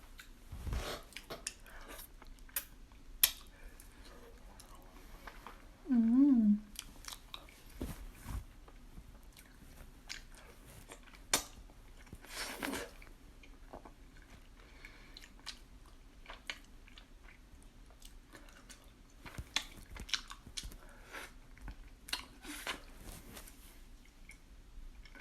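Someone chewing soft strawberry, chocolate and matcha mochi ice cream, quiet close-up soft bites and squishy chews scattered sparsely, with a brief low hum or voice sound in the middle.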